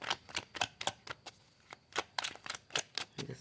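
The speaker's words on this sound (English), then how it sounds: "Shuffles beautifully." A tarot deck with gold-gilded card edges being shuffled, giving a quick run of crisp riffling bursts with short pauses between them, close and fairly quiet with no voices.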